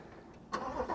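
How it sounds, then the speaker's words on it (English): A Chevrolet C8 Corvette cold start, with quiet cranking giving way to the engine catching and rising into a loud, rough idle, heard close with no talk. "I'm gonna get you a little cold start real quick."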